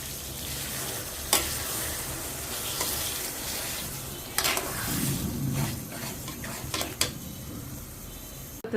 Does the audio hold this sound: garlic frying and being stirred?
yes